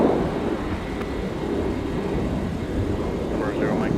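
A fixed-wing airplane takes off in winter at MSP airport, a steady broad engine roar heard from a distance, continuous and moderately loud throughout.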